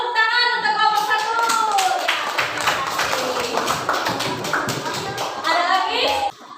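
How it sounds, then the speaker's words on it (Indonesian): Students in a classroom clap for a presenting group, with a quick burst of scattered clapping and taps under children's voices and a rising, chattering tone at the start. "tepuk tangan untuk kelompok 1"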